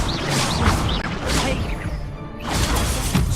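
A loud magical fire spell burst, Incendio, in the Hogwarts Legacy game, with crackling whooshes and crashing impacts during a duel, busy and close.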